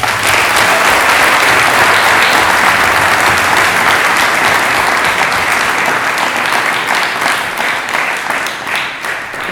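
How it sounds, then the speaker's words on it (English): An audience applauds a youth debate panel on education, a sustained burst of many hands clapping, loud and even for several seconds before thinning slightly at the end. "A round of applause for our panel."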